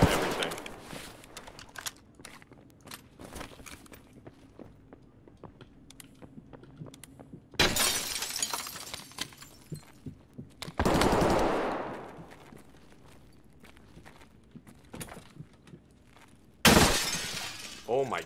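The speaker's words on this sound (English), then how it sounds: "Oh my god, I'm being shot through the fucking everything." Bursts of automatic gunfire in Escape From Tarkov break out in loud, dense volleys with sharp impacts and cracks, separated by quieter stretches of scattered single shots and clatter; someone speaks over part of it.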